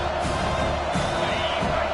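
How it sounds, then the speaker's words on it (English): Home crowd noise in the Football 25 video game as the defense tries to get off the field on third down, a dense continuous roar of cheering with scattered whoops. "Here comes this home crowd as the defense tries to get off the field on 3rd down"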